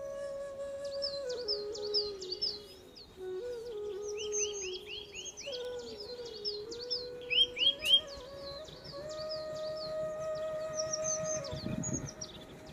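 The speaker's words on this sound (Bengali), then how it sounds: "তার সাথে খোলা আকাশ আর পাখিদের ডাক" Many birds chirp and twitter over open winter village fields, bright repeated calls in overlapping bursts against a steady low drone, with a brief louder flurry near the end.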